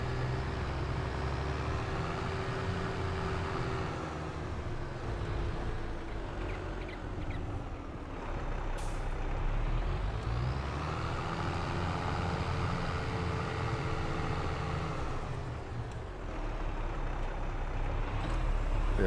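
A tractor in Farming Simulator 22 reverses a trailer into a parking spot, its engine a steady low droning rumble that swells and eases as it maneuvers, with no one talking.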